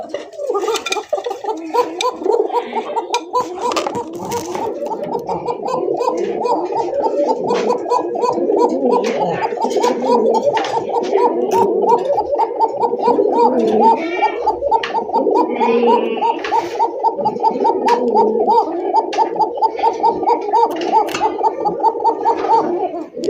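Koka pigeons in a breeder's collection give a dense, continuous chorus of throaty cooing and gurgling, close and loud throughout, with faint human sounds in the background.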